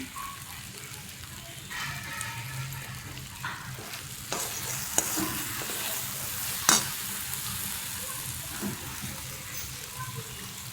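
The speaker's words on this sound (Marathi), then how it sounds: "चांगली परतून घ्यायचे" Raw green tomato chutney is stir-fried in a pan, giving a continuous close sizzle with intermittent scraping stirs and clinks of a spoon against the pan.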